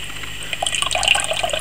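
Water trickles and gurgles through the pump of an Antec Kühler 620 H2O all-in-one cooler, a faint, weak flow with light dripping over a low steady hum.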